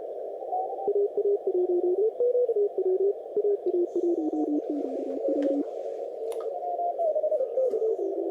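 A steady Morse code tone beeps in rapid dots and dashes over 10-meter amateur radio hiss, with a second keyed signal shifting pitch partway through.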